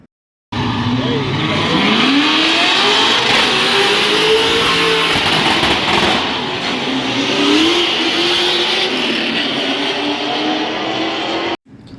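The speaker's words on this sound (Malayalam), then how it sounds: "ഇത് ഈ കാണുന്നത് ഒരു ഓൾഡ് മോഡൽ സൂപ്പർ ചാർജ്ഡ് ആയിട്ടുള്ള SS Camaro ആണ്." Supercharged old-model SS Camaro racing in a roll race at a car show, its engine revving loudly and climbing through gears, with another car's roar mixed in and people talking under it.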